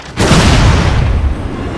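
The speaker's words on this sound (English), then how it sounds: "There's something wrong with my RPG" An RPG rocket launcher fires in the zombie game Dead Rising 4: after a brief quiet start, a single loud, booming blast hits and rolls on as a broad, rumbling wash that slowly thins out.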